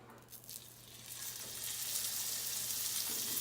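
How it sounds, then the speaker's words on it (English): Salmon fillet searing in a smoking-hot pan at medium-high heat, a steady broadband sizzle that swells louder and fuller after the first second and holds close and constant, with no talking. "That's great because we're just searing it"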